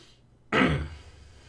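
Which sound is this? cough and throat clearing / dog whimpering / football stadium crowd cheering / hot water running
cough and throat clearing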